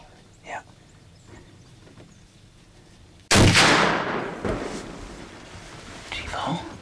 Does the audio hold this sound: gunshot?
yes